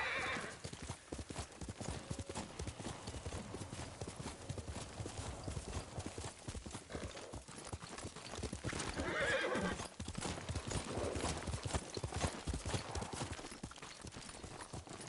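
Steady clip-clop of horse hooves moving at a walk, with a horse whinnying partway through; the hoofbeats stay close and even throughout.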